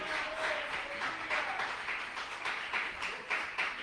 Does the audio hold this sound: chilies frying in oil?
no